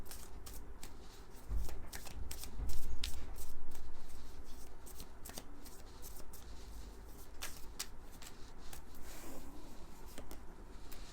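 Tarot cards are shuffled and drawn by hand, giving a steady soft riffling and papery patter with scattered sharper flicks, close and quiet, continuing without pause.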